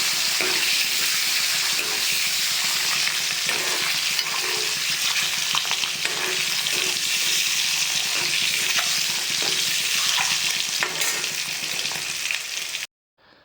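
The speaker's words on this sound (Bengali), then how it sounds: "সবগুলো ডিম ভেজে নেব" Turmeric-and-salt-coated eggs crackle and sputter in hot oil, a loud, continuous sizzle with faint stirring scrapes that stops abruptly at the end.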